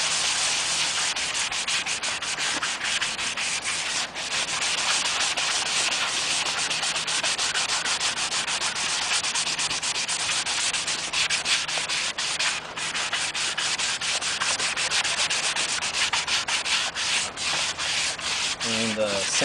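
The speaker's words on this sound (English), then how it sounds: "As we're sanding, you can see it's going to leave the gray paint down in the recessed areas." Continuous rhythmic sanding of a painted clone trooper armor ab plate, a rough scratchy rubbing that keeps going steadily at close range without pause.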